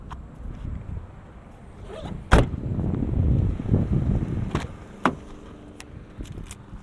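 Rear seatbacks of a 2012 Lincoln MKZ AWD folding down in the trunk area: a sharp latch clack, then rustling and thuds of the seat dropping, followed by two more brief clicks, close by with no talking.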